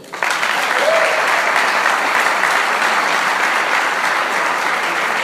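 A church congregation breaks into applause, starting abruptly and holding as a strong, even wash of clapping for several seconds.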